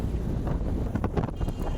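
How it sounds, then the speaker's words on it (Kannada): Strong wind blows across the hilltop at Himavad Gopalaswamy Betta, a steady, loud roar buffeting the microphone with no voices. "ಕೆಳಗಡೆ ಬಿಸಿಲಿದ್ರೆ ಇಲ್ಲೆಲ್ಲ ಸಿಕ್ಕಾಪಟ್ಟೆ ಗಾಳಿ ಬೀಸ್ತಾನೆ ಇರುತ್ತೆ"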